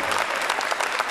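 Audience at a Hindi-Urdu kavi sammelan and mushaira applauding together, a dense steady burst of clapping close and loud throughout.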